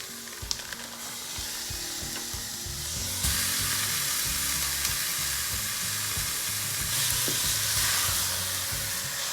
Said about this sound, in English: Okay, so this is cooked up enough, and we're going to add the hamburger.